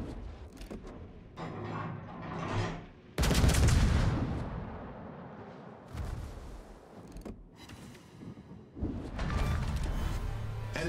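Heavy naval gunfire from warships in World of Warships, with a cruiser among them: booming salvo blasts at about three, six and nine seconds, each trailing a long rumbling roar over constant engine and battle noise.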